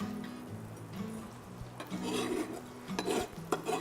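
A knife roughly chops plums and rosemary on a cutting board, tapping and scraping irregularly over a low background hum, fairly quiet and close.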